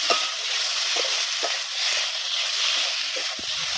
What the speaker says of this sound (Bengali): তরকারিটা ভালো করে কষি।